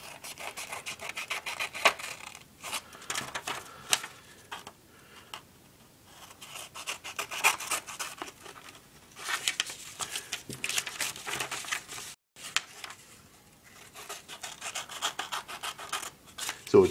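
Scissors snip through paper while a paper pinwheel is cut toward the centre from each corner, giving soft, raspy cutting strokes in irregular bursts with short pauses between, close and fairly quiet.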